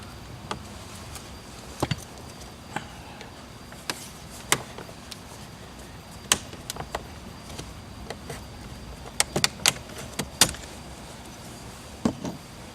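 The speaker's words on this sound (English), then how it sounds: "I'll start by popping this trim plate off here." A trim plate is pried off the dashboard of a 2012 Dodge Journey, with scattered sharp plastic clicks and snaps at irregular intervals over a quiet background, close by.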